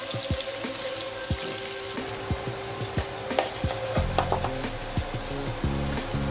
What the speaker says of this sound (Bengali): পেঁয়াজ আর রসুন একসাথে দিয়ে দিলাম, সাথে একটা শুকনা মরিচ দিয়ে দিলাম